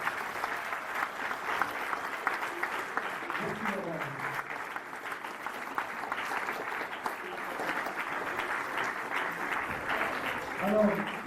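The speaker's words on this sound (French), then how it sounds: "On peut encore l'applaudir s'il vous plaît." Audience applause at a school show of the Odyssey, clapping steadily for about eleven seconds with voices talking faintly beneath it.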